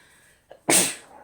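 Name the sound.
sneeze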